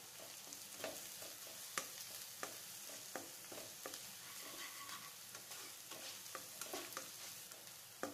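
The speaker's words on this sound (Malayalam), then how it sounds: "ഇനി ഇതിലേക്ക് കറിവേപ്പില ഇട്ട് കൊടുക്കുകയാണ്." Curry leaves frying in a pan for a drumstick and egg dish, a quiet steady sizzle broken by sharp crackles and pops, with no one talking.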